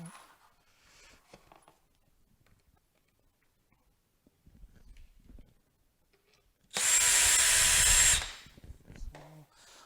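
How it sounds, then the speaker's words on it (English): A power drill drives a screw into wood while a Pikler triangle climber is assembled in a basement. One loud, sustained burst of about a second follows quiet handling noises, then fades out, with no talk. "Hopefully the drill isn't too loud."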